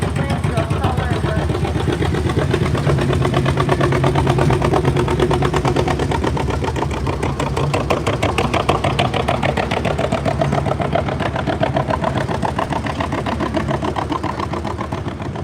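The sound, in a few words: antique tractor engine idling at tractor pull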